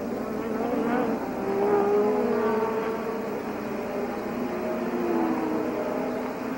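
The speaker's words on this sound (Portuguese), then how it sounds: "Aí vem Mansell" Formula 1 cars at the Canadian Grand Prix in the 1980s roar past as a steady, loud engine drone with rising and falling pitch, a crowd and circuit ambience mixed in, and no clear voice on top.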